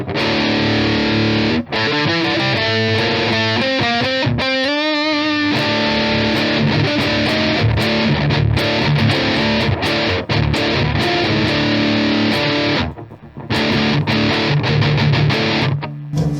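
Heavily distorted electric guitar through a Metal Zone distortion pedal plays chugging riffs and sustained chords, thick and saturated, with a brief drop near the end.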